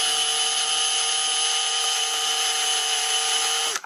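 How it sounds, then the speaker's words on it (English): A power drill bores into the plastic chassis of an MN168 RC car, a steady high whine held continuously for nearly four seconds, close and loud, cutting off abruptly at the end with no talking. "So I'm just going to drill right here."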